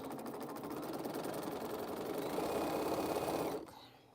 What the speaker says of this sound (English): I'm going to back stitch on these